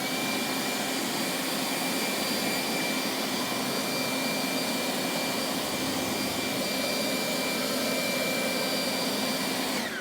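A forced-air blower roars steadily and loudly for the whole stretch, drying a car whose paint is coated with Blue Collar 10 Super Slick protectant. It is a close, continuous broadband rush with no talking.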